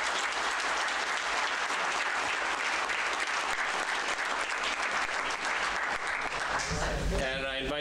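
Sustained loud applause from a conference plenary audience honoring panelists at a forestry event, dense steady clapping throughout, with a brief tonal sound near the end.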